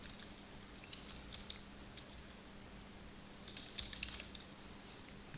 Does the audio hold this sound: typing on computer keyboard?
yes